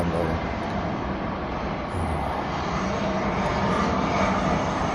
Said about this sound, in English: apparently there's a plane, but I can't see it because the clouds are covering the sky